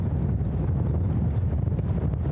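Strong wind of nearly 50 km/h buffets a racing monohull sailboat at sea off Brittany, producing a constant, heavy low roar of gusts against the microphone with no voices.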